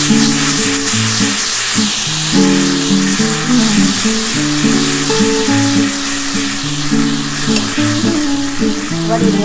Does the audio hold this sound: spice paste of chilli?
yes